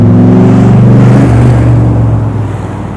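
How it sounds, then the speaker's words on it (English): A Cobra's engine revs loudly at close range, a deep steady growl that rises and then settles back toward idle. "Certainly sounds like a Cobra."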